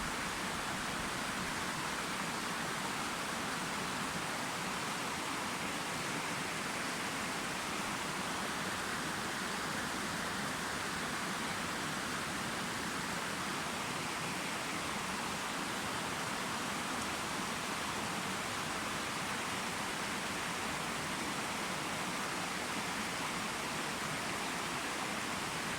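Strong rushing water flowing near rice fields, a loud, steady, broadband roar that holds without pause.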